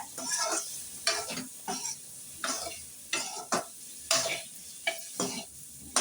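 A spoon or spatula stirs cauliflower pepper masala in a pan, scraping and sizzling in repeated rhythmic strokes roughly every half second, close up with a steady frying hiss underneath and no talk.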